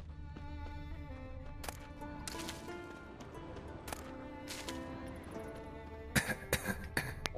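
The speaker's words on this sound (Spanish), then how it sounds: "Cuidado, aquí hay tos." Coughing in The Witcher 3 video game, several short harsh bursts over a droning game soundscape with music, the loudest cluster near the end.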